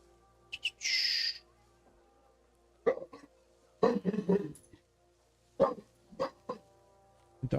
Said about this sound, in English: Dog's unhappy about a low-flying helicopter.